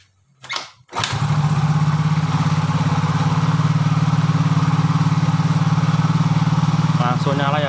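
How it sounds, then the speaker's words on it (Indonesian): A Yamaha Soul GT motorcycle, under repair for an injector fault, fires up after a brief cranking burst and settles into a loud, steady single-cylinder idle that runs evenly to the end. "Langsung nyala ya bro untuk motornya."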